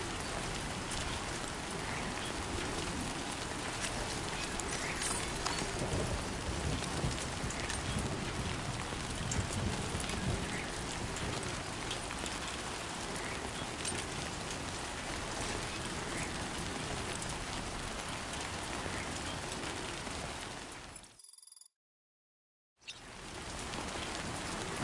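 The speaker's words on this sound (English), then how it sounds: "I don't think this rain's gonna stop." Steady rain falls across a landscape in the video game Death Stranding 2, a dense, constant hiss that cuts out briefly near the end before resuming.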